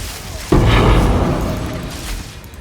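Lightning arrow shots and explosions from a Witchhunter build with Herald of Thunder in Path of Exile 2 hit as a sudden heavy boom, followed by a roaring, crackling wash of blasts that slowly fades.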